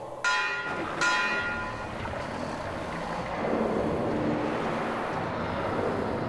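Bell in the video game Metro Exodus rung twice in quick succession, two bright metallic clangs with long ringing decay over a windy, hollow ambience, no speech.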